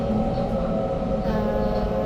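Sydney Northern Line train heard from inside a carriage, with a steady, close rumble, rail noise and a constant hum underneath it throughout.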